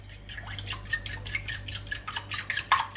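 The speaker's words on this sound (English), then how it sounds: "basically just whisk that up" Eggs whisked in a bowl, a quick rhythmic series of close metallic clicks and taps from the whisk against the sides, growing slightly louder toward the end.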